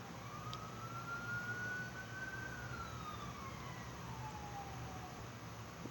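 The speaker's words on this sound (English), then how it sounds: "I'm talking about an emergency and the siren goes by" An emergency vehicle siren passes outside, a faint wailing tone that rises and then falls away in the distance over a low background rumble.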